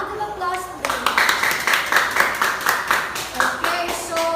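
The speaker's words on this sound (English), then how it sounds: "Can you give yourselves a round of applause, please?" Students in a classroom clap for themselves in a short, rhythmic round of applause, with a voice speaking over the clapping at the start and the end.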